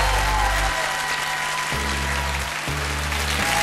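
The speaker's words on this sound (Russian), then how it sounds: "Эти аплодисменты вам!" Steady, dense applause from a crowd fills the scene in the Pole Chudes game show video game, loud and continuous over low sustained musical tones that shift in steps.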